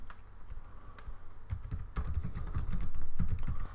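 Typing on a computer keyboard while building a database form, scattered key clicks at first, then a denser, louder run of rapid keystrokes, close and without talk.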